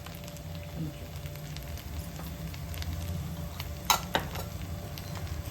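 A spoon stirs spices into Bagara rice in a pot, with soft scraping and a low simmering sizzle throughout, plus two sharp metallic clinks near the end.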